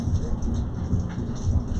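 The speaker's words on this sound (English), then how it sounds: "Got rain, does that cause any problems, the weather?" Steady rain pours outdoors with a low rumble of thunder underneath, a continuous broadband wash without any voices.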